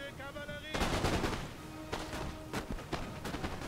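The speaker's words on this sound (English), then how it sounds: "he's got his fusiliers firing" Fusiliers firing muskets in the Napoleon: Total War video game, a ragged volley of gunshots followed by several scattered cracks over a few seconds, moderately loud.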